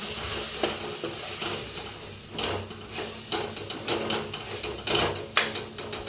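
Spoonfuls of peanut flour are stirred into sizzling vegetables in a pan for tomato sambar, producing a continuous close frying hiss with recurring scrapes and bursts of stirring, with no voices.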